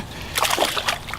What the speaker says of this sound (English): he's splashing like crazy